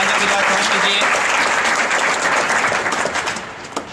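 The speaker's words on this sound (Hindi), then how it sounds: "उनका भी तालियों के साथ स्वागत कीजिए।" An audience at a civic cleanliness event in Churu claps in welcome for a special guest, loud, dense applause filling the hall and tapering off near the end.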